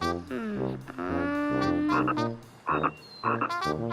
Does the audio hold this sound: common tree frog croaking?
yes